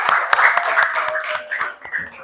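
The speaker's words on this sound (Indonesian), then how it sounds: "Tepuk tangan dong untuk kita hari ini." Children clapping in a classroom, a series of sharp, separate claps in an uneven rhythm, moderately close, while voices talk over them.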